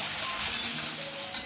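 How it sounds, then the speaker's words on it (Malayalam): Vinegar poured into a hot tamarind pickle mixture sizzles in a steady bright hiss, close and continuous with a faint stir, with no voices. "ഇനി ഞാനിതിൽ 2 ടേബിൾ സ്പൂൺ വിനാഗിരി ചേർത്ത് കൊടുക്കുന്നുണ്ട്"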